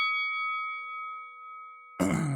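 A single clear bell tone rings out and slowly decays for about two seconds as an opening bell, then a burst of louder noise cuts in.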